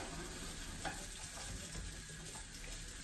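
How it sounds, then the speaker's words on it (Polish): Onion frying in a pan for a fish dish of skrei cod with chorizo and sweet paprika, a steady close sizzle with faint stirring scrapes throughout, no voices. "Cebulą, która się musi długo smażyć"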